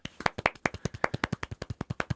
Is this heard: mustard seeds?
no